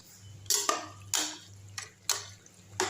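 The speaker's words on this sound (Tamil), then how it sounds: "நல்லா கிண்டி விட்டுடலாம்." A spoon scrapes and knocks around a pressure cooker pot while pasta with roasted gram is stirred, about five distinct scraping strokes spaced unevenly over a low steady hum, no talking.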